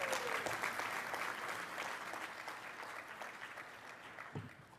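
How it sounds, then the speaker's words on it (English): An audience claps steadily through the whole stretch at a military panel event, a dense, sustained round of applause that stays fairly even in loudness, with a few scattered sharper claps near the end. "Let's give him a round of applause for that."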